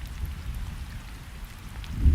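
Steady rain patters down through a gloomy storm ambience, a soft continuous hiss with a low rumble swelling near the end, heard alone with no voices.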